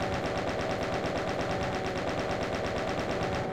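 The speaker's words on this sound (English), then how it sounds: "Chain gun him a little bit" Doom 2 chaingun fire aimed at a Cacodemon: a continuous, rapid rattle of loud gunshots with a steady, unbroken rhythm and no voices.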